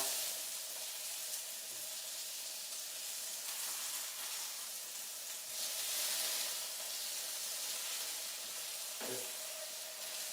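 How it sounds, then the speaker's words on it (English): Meatballs searing in a hot pan, a steady close hiss and crackle of frying fat that swells briefly, with a single soft knock near the end. "That sears them nicely there."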